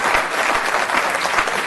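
Sustained applause from a council meeting audience fills the room, dense and loud with no breaks, after a public presentation.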